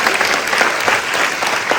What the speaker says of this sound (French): on va l'applaudir parce qu'elle aussi